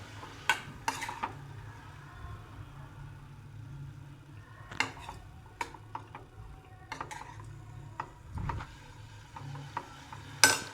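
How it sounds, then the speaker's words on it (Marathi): Cauliflower florets sautéing in a pan over a high gas flame: a quiet, steady sizzle with scattered sharp clicks and scrapes from stirring, near and alone. "मी आता हे फ्लावर परतून घेत आहे"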